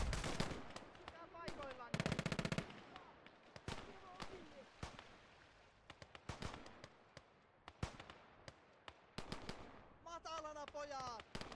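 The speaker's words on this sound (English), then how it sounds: "2 MG42s firing towards the south side" Two MG42 machine guns in the WWII game Call to Arms fire sharp, loud bursts of rapid shots separated by brief pauses, with scattered single cracks and a voice briefly heard near the end.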